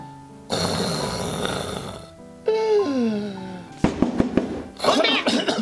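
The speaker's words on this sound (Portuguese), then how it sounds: "você roncando dessa altura aí?" Loud, close snoring from a man sleeping on a cold night comes in long rasping breaths, with brief crackling bursts and a voice between them.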